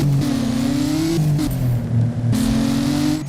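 A car in the Driving Empire game revving hard with nitrous boost, its engine whine stepping up through several quick gear changes, loud and close, over a steady background rush.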